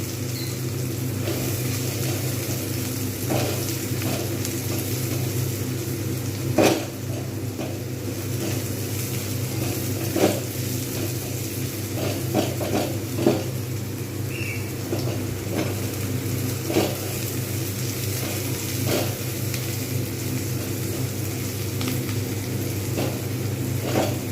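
Pieces of taro (kochu) fry steadily in oil in a pan, a continuous soft sizzle with occasional sharp pops and spatters, close and even throughout with no talking.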